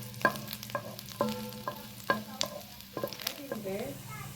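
Paste for homemade pizza, with ginger being added, fries in a pan while a utensil stirs it, giving repeated clanking scrapes about once a second over a soft, steady sizzle.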